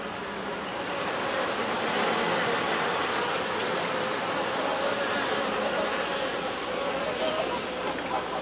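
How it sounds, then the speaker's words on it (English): A dense swarm of midges over Lake Mývatn in Iceland makes a steady, hissing hum that swells slightly and holds on without pause. "This is Lake Mývatn in Iceland, the lake of midges."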